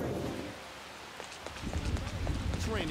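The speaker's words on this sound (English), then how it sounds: "rain came out of nowhere" Steady rain hissing in the Persona 5 Royal video game, a soft broadband wash that continues under a voice speaking over the game sounds.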